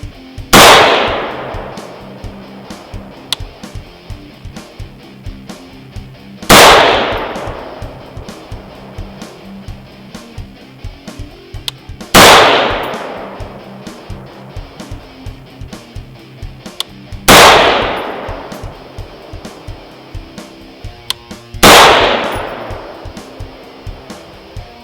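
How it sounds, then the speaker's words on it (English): Five loud, close gunshots from a Sharps Rifle Company rifle in 25-45 Sharps firing 87 grain full metal jacket rounds, spaced about five seconds apart, each a sharp crack trailing into a long outdoor echo. "And I too will be shooting the 87 grain full metal jackets."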